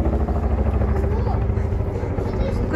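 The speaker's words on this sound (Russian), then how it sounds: "Какой-то вертолет летает все утро." Steady low rumble of a helicopter flying somewhere nearby, a constant drone that holds for the whole moment with no clear approach or fade.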